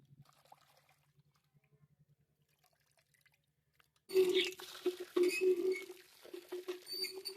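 Fish is washed in water, giving a sudden run of splashing and sloshing after several seconds of near silence with a faint low hum, the wet patter continuing in uneven bursts to the end.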